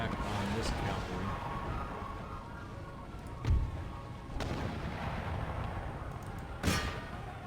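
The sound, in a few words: mortar artillery firing in Empire Total War Darthmod video game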